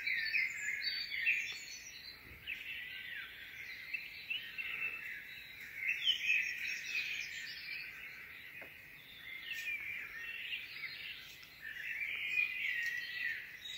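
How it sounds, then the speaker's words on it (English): A dawn chorus: many birds singing at once in an open outdoor setting, overlapping chirps and trills rising and falling in waves, fairly distant and otherwise quiet. "Can you hear the birds? The beautiful dawn chorus."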